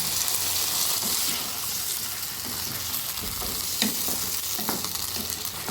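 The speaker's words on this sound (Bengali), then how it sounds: "সামান্য একটু জল দিয়ে আমি এটাকে কষে নেব।" Turmeric with a splash of water sizzles and fries in a pan while being stirred for a vegetarian patla jhol, a steady close hiss with occasional scraping clicks of the spoon.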